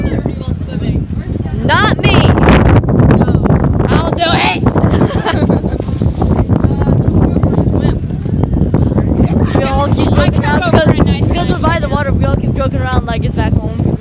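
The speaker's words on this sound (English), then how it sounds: "Nice cold wind." Cold wind buffets the microphone at New York harbor, a steady broadband rush that holds throughout with occasional gusty bursts, while voices talk over it.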